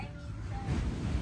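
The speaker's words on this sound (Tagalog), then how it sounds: "Naririnig niyo ba yung tunog ng dagat?" Sea waves wash onto a beach at a resort in Nasugbu, Batangas, a steady low surf roar with wind, building slightly louder partway through, with no voices.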